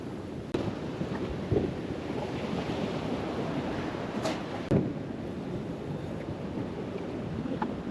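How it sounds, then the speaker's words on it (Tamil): Sea waves wash against a shore in a steady broadband rush, with a couple of slightly louder surges breaking through, and wind noise blowing across the microphone. "இப்ப அலை வந்து எங்க அடிக்குது வந்து பாருங்க"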